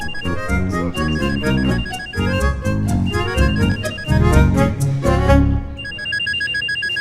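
A mobile phone rings with a loud, bright musical ringtone melody that plays continuously and clearly, with no voices over it.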